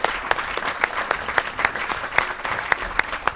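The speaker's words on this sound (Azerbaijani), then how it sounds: "Biz sonda alqışlayırıq hər birimizi." Game-show studio audience applauding at the end of the evening's game, steady close clapping with sharp individual claps standing out, little talk over it.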